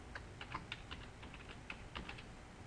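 Quiet typing on a computer keyboard as a username and password are entered to sign in, a quick irregular run of soft key clicks close by.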